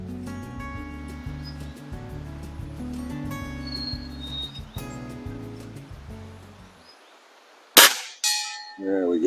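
A Beeman C1 carbine air rifle fires two sharp, loud shots close together near the end, each a crisp crack with a brief tail, following a quieter stretch of background music.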